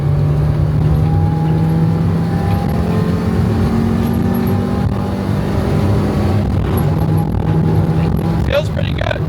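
A tuned Mazda Miata engine revs hard and steady under a loud, continuous drone, staying close and sustained throughout with a few brief higher rattles near the end.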